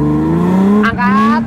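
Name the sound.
car accelerating while practicing drifting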